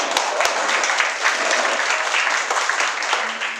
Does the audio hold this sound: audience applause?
yes